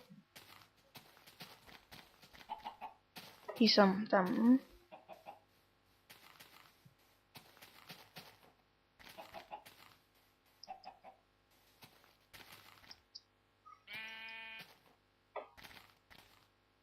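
Chickens in the Minecraft video game give several short clucks, spaced out between quiet gaps, while someone talks in between.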